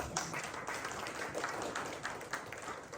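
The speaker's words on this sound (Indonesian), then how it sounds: "Tepuk tangan untuk Tuhan." Congregation applause at a church worship service in Cipanas, a dense, steady wash of many hands clapping at close range for about three seconds, with faint voices mixed in.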